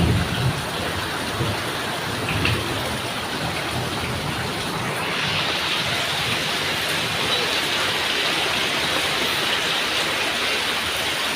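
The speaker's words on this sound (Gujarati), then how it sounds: "તો જો કેવો વરસાદ પડે." Heavy rain pours down on a village in Banaskantha in a dense, continuous hiss, steady and close, with no voices over it.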